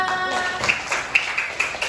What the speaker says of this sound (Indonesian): Yang lain silakan berikan tepuk tangannya.